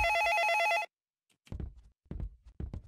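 A telephone bell rings loudly in one electronic trill lasting under a second, followed by silence and then several low, dull thumps.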